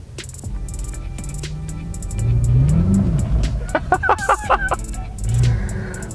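A BMW M car engine roars and climbs in pitch as it accelerates, loud and close, with a few sharp revs near the end.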